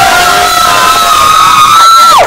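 A crowd at a hip-hop showcase cheering and shouting loudly for a performer, a dense wall of high whoops and yells that swells and then cuts off near the end.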